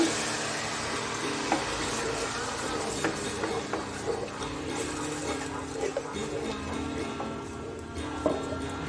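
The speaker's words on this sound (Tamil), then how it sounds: "இது நல்லா கிண்டிக்கிட்டே இருங்க." Pistachio and dragon fruit milk halwa with ghee being stirred in a pan, giving a steady soft sizzle with continuous scraping underneath and a faint voice in the background.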